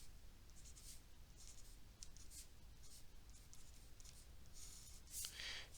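Chalk or marker writing a determinant on a board, with short scratchy strokes coming in irregular bursts, quiet and close, with no speech.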